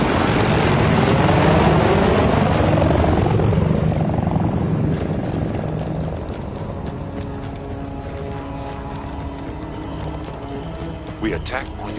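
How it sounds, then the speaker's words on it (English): Russian military helicopters in the Battlefield Bad Company 2 video game, their loud rotor thump passing close and then fading into a steadier drone, with voices talking over it. "Russian choppers, man, they shouldn't be."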